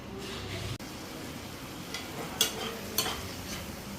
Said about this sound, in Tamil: இப்போ கிரேவி கொதிக்க ஆரம்பிச்சிருச்சு.